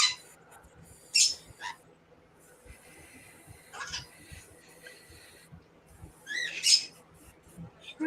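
A pet bird lets out a few sharp, harsh squawks and screeches spaced across the stretch, fairly close but faint against quiet room noise, with no talking.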